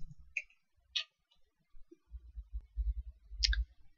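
Scattered light clicks and taps from typing text on a computer keyboard, a few isolated keystrokes followed by a quicker cluster of soft, close clicks, with no speech.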